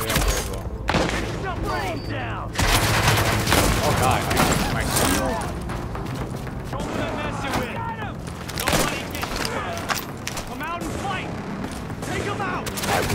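Dense gunfire in the video game The Division, including sniper rifle shots, with rapid bursts and booms layered over continuous game noise and people talking throughout.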